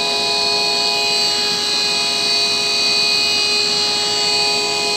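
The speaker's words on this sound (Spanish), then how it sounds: "Vamos a subir esa referencia y podemos ver que el motor empieza a acelerar." An electric motor driven by an ABB ACS variable-frequency drive runs at speed, giving a steady loud hum with sustained high-pitched whining tones and no break.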